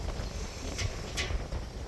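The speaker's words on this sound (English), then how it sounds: "you can hear the wind gusting behind me" Steady rushing wind noise buffeting the microphone, with a couple of brief louder gusts and no voices.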